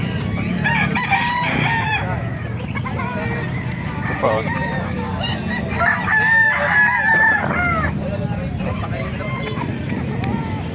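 Many chickens clucking and roosters crowing together at a busy, noisy poultry market in Calumpit, Bulacan, with people talking in the background throughout.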